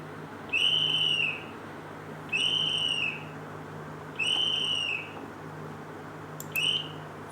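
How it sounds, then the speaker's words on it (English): A high, steady whistle blows in three sustained blasts of under a second each at even intervals, then a brief fourth toot, over a quiet humming background. "You must have heard the whistling sound of a whistle."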